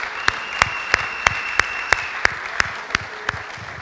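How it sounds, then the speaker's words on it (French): A church congregation clapping in slow, steady unison, about three sharp claps per second ringing in a reverberant hall, loud and regular with no speech over it. "Acclamons la parole de Dieu."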